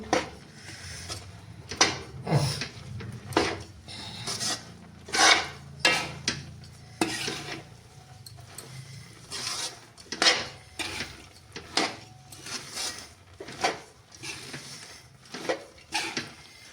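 Dry fruit barfi mixture stirred in a pan over low heat, with repeated scraping and knocking of a spoon against the metal in an uneven rhythm of sharp close strokes and no talking.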